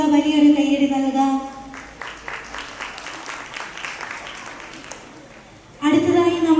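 An audience at a school annual day breaks into sustained applause for a few seconds, dense clapping sitting between stretches of a voice talking over a microphone.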